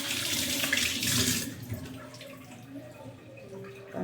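Kitchen faucet running into a sink while dishes are washed, a loud splashing stream for about a second and a half, then fading to quieter trickles and drips.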